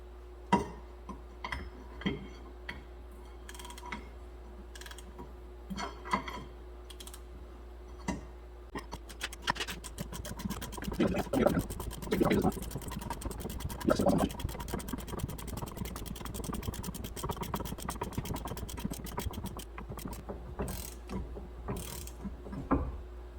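Rear wheel bearing flange being pressed back into the hub of a 2008 Ford Fusion AWD, with a backer behind it: quiet ticks and clicks, then a denser stretch of ratcheting, grinding mechanical noise with creaks and pops, close up.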